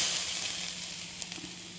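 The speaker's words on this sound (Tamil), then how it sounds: "இப்போ தேங்காய் இதில் சேர்த்தாச்சு. இப்போ இதை கொஞ்சம் வதக்கிடலாம்." Grated coconut sautés in hot ghee in a kadai, giving a bright, continuous close sizzle with a couple of faint stirring taps near the end.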